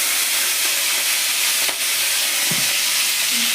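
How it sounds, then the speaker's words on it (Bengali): Prawns frying in a pan of hot oil, a loud steady hiss and sizzle filling the whole span, close up, with a faint clink of a utensil and no talking. "তো এইবার আমি চিংড়ি মাছটা ভেজে নেব।"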